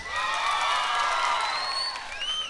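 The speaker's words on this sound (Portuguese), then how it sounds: "Quem gostou, bate palmas." A live concert audience claps and cheers together, a dense, loud wash of applause with whoops and whistles rising over it, fading slightly at the end.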